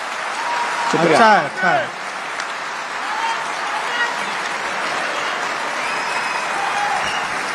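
An audience at a Hindi poetry recital breaks into applause, a sustained broad clapping that carries on steadily while someone speaks briefly over it near the start.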